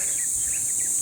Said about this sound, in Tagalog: naririnig niyo po ang huni ng mga ibon, kuliglig.